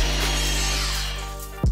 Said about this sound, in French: découpez-le à l'aide de votre scie à onglets